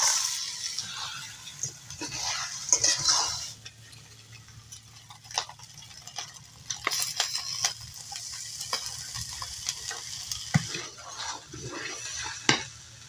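Rice and lentils with potato fry in a pot for khichuri, a spoon scraping and stirring in irregular bursts over a soft, steady sizzle, with occasional clinks of utensil against the pan.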